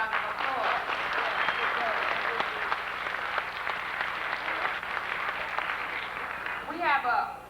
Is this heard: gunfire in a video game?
no